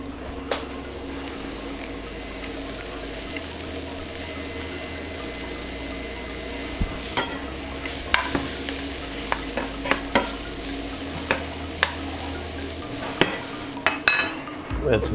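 Bacon frying in a pan alongside home fries, a steady sizzle with scattered scraping and tapping as the food is moved around, continuing under quiet background noise.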